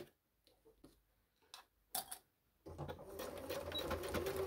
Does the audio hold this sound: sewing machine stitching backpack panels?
yes